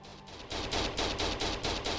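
Rapid rhythmic bursts of gunfire from weapons in the game TerraTech, loud and close, repeating about every quarter second after a brief quieter start.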